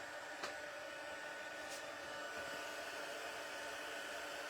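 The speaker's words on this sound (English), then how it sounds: "I'm just heating up my heat tool." A handheld crafting heat tool runs close by at low volume, giving a steady fan-driven whoosh with a faint whine and no talking.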